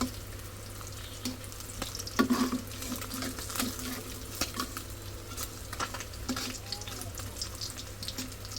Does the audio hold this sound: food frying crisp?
yes